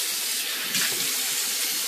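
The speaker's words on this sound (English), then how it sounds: "let's fill the sink up with some cold water" Cold water runs steadily from a tap into a sink, a continuous broadband hiss with a slight surge partway through, close and alone with no talking.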